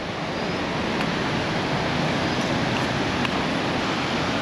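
Cold wind blowing beside the Pushpavati, a boulder-strewn glacier river on a rocky mountain trail, a steady broadband rush of wind and rushing water, continuous and fairly loud with no voices.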